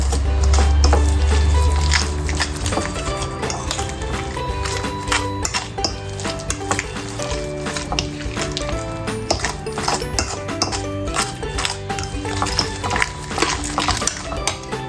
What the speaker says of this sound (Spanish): Trabajamos todo esto, ablandar bien la mantequilla.